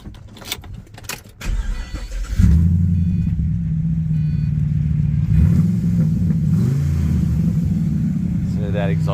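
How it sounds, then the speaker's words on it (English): A 2006 Pontiac GTO with a 6.0 LS2 V8 and factory mufflers is started after some clatter and handling noise, then settles into a loud, steady, deep idle rumble with a couple of brief revs, while someone talks over it. "So that exhaust sounds awesome."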